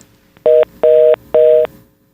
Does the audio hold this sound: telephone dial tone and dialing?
yes